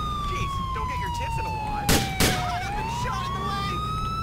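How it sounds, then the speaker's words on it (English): A police car siren in GTA 4 wails in a long slow falling-then-rising sweep, steady and prominent, with two sharp gunshot-like bangs cutting through partway. "Sirens on."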